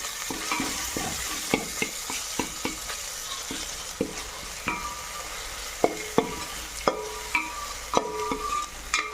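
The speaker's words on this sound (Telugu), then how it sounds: "ఇందులో పసుపు, అల్లం ఎల్లిగడ్డ పేస్ట్ వేసుకుందాం." Turmeric and ginger-garlic paste fry in a pan for a fish curry, a soft sizzle punctuated by repeated sharp clinks and scrapes of a spoon stirring against the pan.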